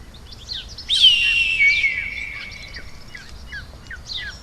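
An eagle gives one loud, clear, high screeching call that slides downward and fades, followed by faint scattered chirps over a quiet outdoor background.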